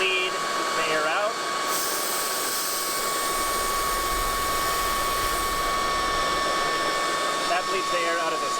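Air hissing out of a high-pressure air compressor hose after pumping up to 4,000 for an HP Max airgun, a loud, continuous broadband rush with a steady whine, sustained throughout.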